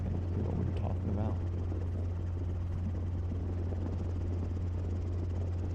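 A helicopter on a solo training flight gives a constant loud engine and rotor drone close to the listener. Radio or cockpit talk comes faintly over it at the start.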